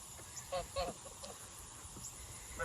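Baby geese give short, soft honks and peeps in a few scattered bursts, fairly faint and close, over a low background hiss.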